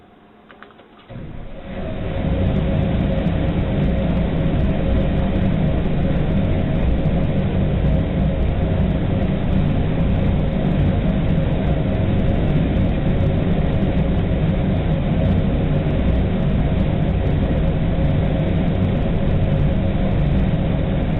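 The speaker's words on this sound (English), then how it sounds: "This particular engine model will power the Long March 5 Y6 rocket." A hydrogen-oxygen rocket engine for the Long March 5 Y6 rocket roars to full power on a test stand and holds a steady, loud, unbroken thunder for about twenty seconds.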